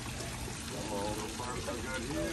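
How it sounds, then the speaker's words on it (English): Water pours steadily into an otter pond biofall, a continuous splashing rush close to the microphone with bubbling trickles through it. "Water's pouring all into here."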